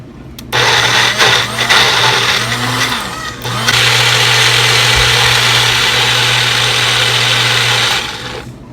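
A Magic Bullet blender puréeing baby food, running loud and close as a steady whirring motor with a brief dip in pitch partway through, continuing for several seconds before stopping.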